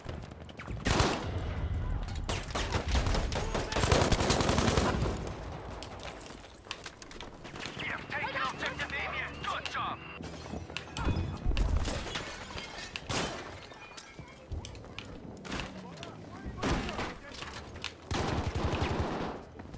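In Battlefield 5 multiplayer, rapid gunfire comes in repeated loud bursts and sustained volleys, close and dense, with intermittent crashes and clatter between them.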